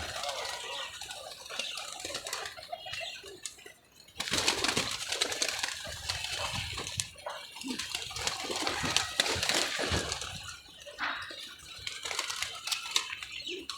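Pigeons coo in soft repeated calls at close range, with rustling and a few sharp knocks and bumps scattered throughout, and brief bursts of wing movement.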